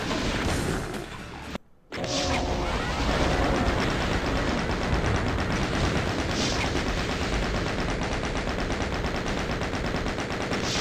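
A chain gun in Doom II fires continuously in a dense, loud stream of rapid shots, briefly stopping for a moment near the start and then resuming without a break.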